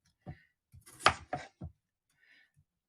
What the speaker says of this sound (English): chop the ends off, and then cut them in half